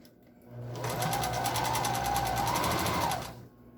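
A sewing machine stitches a seam on an N95 face mask, a fast rhythmic whir that starts up, holds steady for a few seconds, then stops, heard close with no talk.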